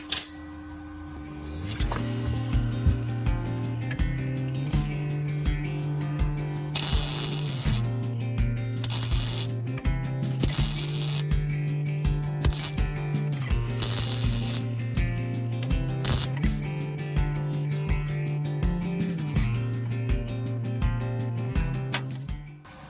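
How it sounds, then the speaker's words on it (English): Arc welding on a metal owl sculpture made from scrap such as a fork: steady close crackling and sizzling with a buzzing hum underneath, broken by short pauses and restarts throughout. "So let's get that welder on."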